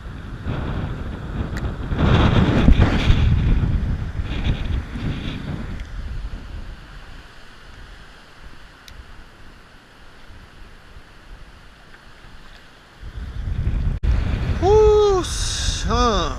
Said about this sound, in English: Wind is messed up. It is crazy out here.